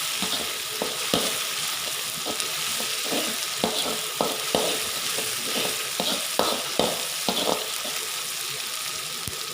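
Aromatics sizzle in a hot pan for pork stir-fried with holy basil while being stirred, with repeated scraping clatters at irregular intervals and a steady frying hiss underneath.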